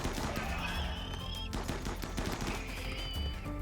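Assault rifle fire aimed at centipede mechs in RimWorld, dense crackling bursts of shots layered over background game music, steady and fairly loud throughout.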